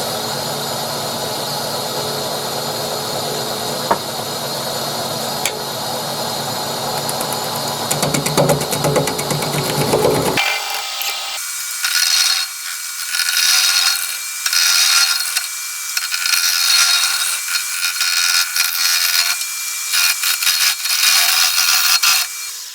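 A wood lathe turns a live-edge cherry bowl at about 500 rpm with a steady motor hum. Scraping and cutting bursts follow as the tool bites the spinning wood in repeated passes.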